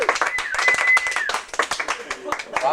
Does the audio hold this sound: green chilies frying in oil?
no